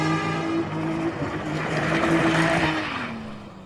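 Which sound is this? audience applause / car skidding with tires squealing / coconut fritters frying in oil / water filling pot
car skidding with tires squealing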